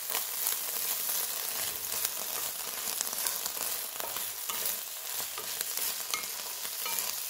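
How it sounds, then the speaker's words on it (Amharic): Beef tibs frying in butter in a pan, a steady close sizzle with crackling pops and occasional stirring scrapes running continuously without any talk. "ትንሽ በቅቤው ጥብስ አደርገዋለሁ።"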